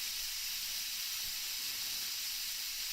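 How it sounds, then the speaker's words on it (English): Steam vents from a Deenkee 6 quart multi pot pressure cooker in a steady, loud, continuous hiss that holds unchanged from start to finish, with no talk. "when you release the steam, it just gets everything soaked."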